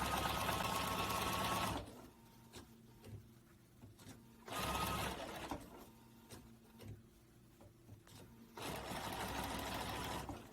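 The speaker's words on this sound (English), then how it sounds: "Now you move the fabric a little bit more. Literally, it's about 3 or 4 stitches." A sewing machine stitches fabric pieces together in short bursts, running loud and steady for a couple of seconds, pausing amid quiet fabric handling, then whirring again twice more.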